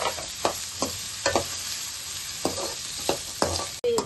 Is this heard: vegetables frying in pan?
yes